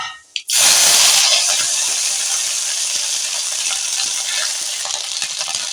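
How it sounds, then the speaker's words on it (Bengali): Ginger paste hits hot oil with a bay leaf and nigella seeds and bursts into a loud, steady sizzle that stays intense and close as it fries. "আদা বাটাটা একটু ভেজে নেব"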